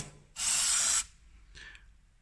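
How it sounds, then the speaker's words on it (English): Penetrating oil sprays from an aerosol can onto old car coilovers in a short, loud hiss of about half a second, followed by a fainter second burst. "One thing I'm going to do is give these coilovers coating with some penetrating oil."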